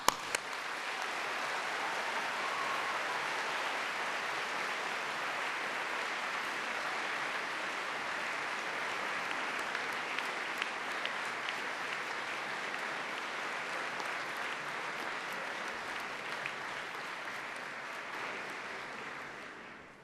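A Cardiff University graduation audience claps and cheers: loud, sustained, even applause that carries on for about twenty seconds with no let-up and fades only at the very end.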